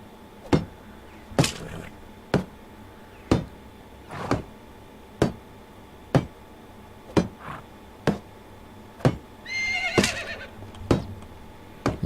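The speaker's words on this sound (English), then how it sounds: "the mare is just as loud as the stallion was" A mare whinnies loudly in the Medieval Dynasty video game, a shrill, wavering neigh near the end, amid a steady series of sharp, evenly spaced clip-clop taps.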